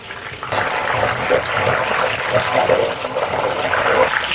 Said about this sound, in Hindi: अब इन चिप्सों को हम उलट पुलट के क्रिस्पी होने तक फ्राई कर लेते हैं।